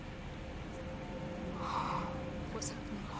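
A creature in Hellblade: Senua's Sacrifice breathes with heavy, gasping snorts, a few raspy breaths swelling slightly louder midway over a low ambient bed.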